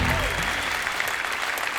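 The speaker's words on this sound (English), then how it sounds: "Let's give them all a big round of applause," A comedy magic show audience breaks into a dense burst of applause that fills the room, with a voice briefly audible at the start before the clapping carries on steadily.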